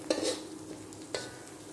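Onions fry in a pan for a home-style fried lidi noodle dish, with a steady close sizzle and two scraping strokes of a utensil stirring them.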